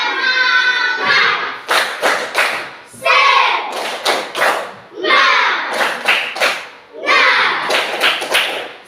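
A standing classroom of students performs a rhythmic spirit clap: voices chant loudly, then sharp clap bursts come in quick repeated groups, close and energetic, with the chant and clap pattern cycling four times.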